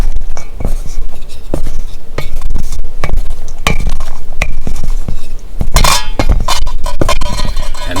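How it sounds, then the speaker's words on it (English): Chicken paprika being stirred in a Dutch oven: loud, irregular scrapes, clinks and knocks of a utensil against the pot, bunched in quick bursts with a busier clatter near the end, no talking. "Stir it up. Mix it all nice together."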